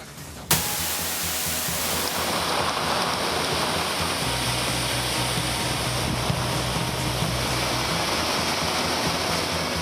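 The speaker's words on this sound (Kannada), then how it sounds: "ಧಾರಾಕಾರವಾಗಿ ಬೀಳುತ್ತಿರುವ ಮಳೆ" Heavy rain pours down in green forest near a waterfall, a dense, unbroken roar of water that starts abruptly and holds loud and steady throughout.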